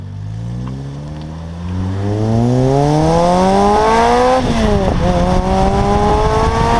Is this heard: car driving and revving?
yes